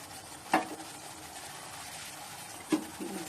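A spice paste of poppy seed, cashew, ginger and green chili sautéing in a pan gives a low, steady sizzle, broken by two sharp clinks of a utensil against the pan, close by and without talk.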